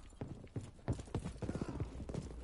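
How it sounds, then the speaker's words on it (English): Footsteps in a video game: quick, uneven clopping thuds patter steadily and fairly close for a couple of seconds, with no clear talk over them. "I hear mad footsteps."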